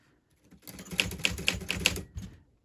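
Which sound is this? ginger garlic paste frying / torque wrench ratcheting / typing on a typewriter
typing on a typewriter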